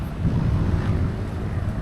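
Wind buffets the microphone in a continuous low rumble on an overcast day at the Manila seaside, gusting slightly but never letting up.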